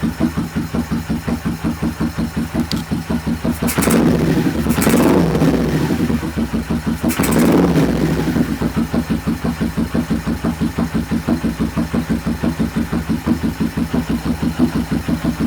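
A motorcycle engine idles with a steady, throbbing mid-pitched pulse, close and loud, rising briefly twice into louder surges before settling back into the even idle.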